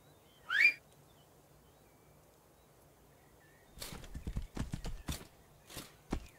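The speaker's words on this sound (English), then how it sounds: "Let's see if I can call my horse." A horse in Tainted Grail: The Fall of Avalon, a fantasy video game, gives a short whinny, then after a quiet pause its hooves clip-clop in an uneven burst of close, moderate steps, with no talk over it.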